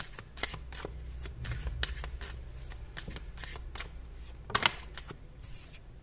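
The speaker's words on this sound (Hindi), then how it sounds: "आप चाहें तो कार्ड शफलिंग को स्किप कर सकते हैं" Tarot cards are shuffled by hand in repeated quick riffles and slides, close and clear, with a brief louder flurry near the end.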